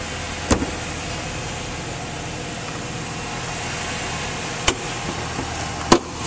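A 2006 Chrysler 300 SRT8's 6.1-liter Hemi V8 idles steadily and smoothly up close under the open hood, a constant broadband rumble broken by a few brief sharp clicks.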